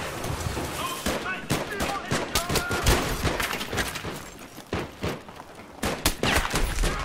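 Rapid gunfire in the video game Battlefield 3, dense bursts and volleys of shots crackling almost continuously, with a voice talking over parts of the barrage.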